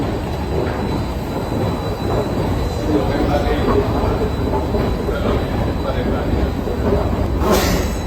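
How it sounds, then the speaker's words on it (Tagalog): Train rumbles past at close range near Villa Borghese in Rome, a loud, continuous roar of rolling wheels with rattling and a brief high squeal near the end, with people talking faintly underneath. "Train."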